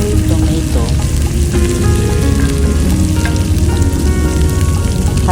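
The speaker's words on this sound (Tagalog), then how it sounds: "Hayaan lang natin na magisang mabuti ang kamatis at bawang" Garlic and cherry tomatoes sautéing in a pan for tuna spaghetti, a loud, steady sizzle and crackle of frying oil filling the whole moment, close up, with no talking.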